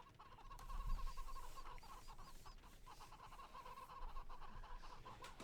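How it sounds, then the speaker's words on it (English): Chickens cluck softly and continuously in a video game arena match, against a steady, noisy ambient background. "you can hear all the clucking. We got chickens in this game."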